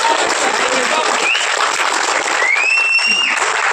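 An audience at a film event honouring director Rajendra Singh Babu applauds in a dense, continuous wash of clapping. A voice speaks over it and a few thin whistles rise near the end.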